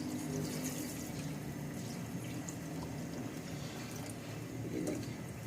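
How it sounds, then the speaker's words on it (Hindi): Water poured into a pot of chicken and vegetable soup, a faint continuous splashing and trickling from start to finish, with no talking. "अब इसमें पानी डाल दूंगी मैं।"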